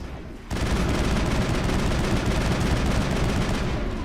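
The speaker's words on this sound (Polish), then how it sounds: "Dobra, rzućmy tam granat." A grenade blast and a burst of gunfire in the video game Mass Effect, starting after a brief quiet moment. The roar is loud, dense and sustained, with rapid crackling shots packed over it.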